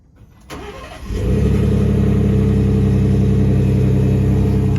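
Engine of a 2021 Ford F-150 XLT Sport pickup truck starting up and settling into a loud, steady, close-up running drone.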